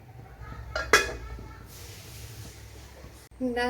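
A single brief metallic clank of a pot lid closing over a simmering Kottayam-style Velapara fish curry in ground coconut gravy, sharp and close against low kitchen background hum.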